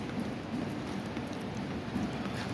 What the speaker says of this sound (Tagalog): Pero ngayon heavy rain talaga, baksak buhos ang ulan.